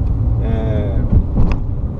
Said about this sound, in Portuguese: Então você acaba ouvindo o barulho do motor com maior intensidade